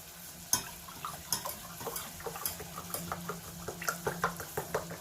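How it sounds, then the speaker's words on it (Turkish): A spoon stirs minced meat sauce in a pan for lasagne, making a steady run of soft scrapes and light clinks over a low sizzle, close and fairly quiet. "Ve karıştırıyorum."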